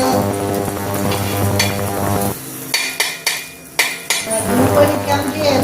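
A gram flour mixture is roasted in a pan, with loud metal spatula scrapes and clanks against the pan, some sharp knocks, and a faint sizzle underneath.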